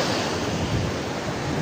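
Sea waves wash in at a Goa beach, a close, steady rushing roar of surf with wind buffeting the microphone.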